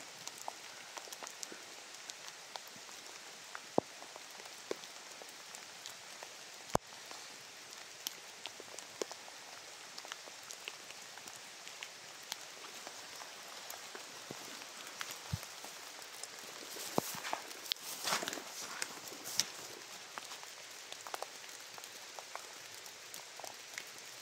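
Steady rain falls outdoors near huts, a continuous soft patter with scattered sharper drops and a brief heavier burst near the middle, with no talking.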